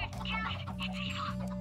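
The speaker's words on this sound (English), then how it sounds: "I might have to kill some chickens and give Tyler Perry some food" Chickens cluck softly in the Minecraft video game in short, repeated bursts, sitting under a low steady hum with faint background sounds.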